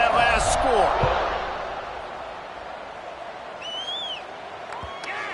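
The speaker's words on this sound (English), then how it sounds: "this crowd is buzzing after that last score" Crowd noise fills a college football stadium during an Illinois game, a dense, steady roar of voices with a sharp slap-like thud near the start, while a commentator talks over it.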